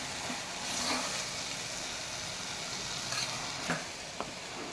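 Ridge gourd frying in a pan with lentils gives a steady, soft sizzle and hiss, with a few faint stirring taps, heard close but fairly quiet.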